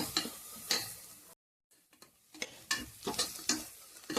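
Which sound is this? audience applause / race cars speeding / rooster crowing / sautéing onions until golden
sautéing onions until golden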